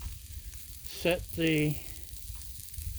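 Boca burgers frying on a Blackstone griddle give a steady, soft hiss throughout, with a short burst of voice briefly rising over the sizzle midway.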